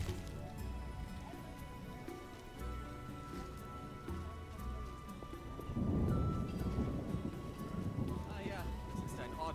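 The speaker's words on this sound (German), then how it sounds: "es ist ein ordentlicher Regen" Rain in The Witcher video game patters steadily throughout, swelling louder midway, with low rumbles and faint hoofbeat-like clopping underneath; a voice can be heard briefly.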